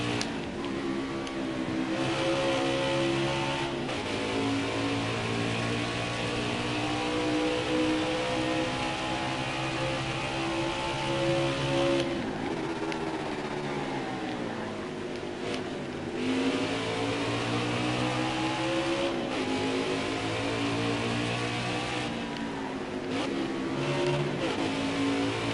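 A race car engine in the NASCAR Heat 4 video game, run in an NXS series race at Road America, holds a loud, continuous roar throughout. Its pitch climbs and drops with the shifting and revving, and no one speaks.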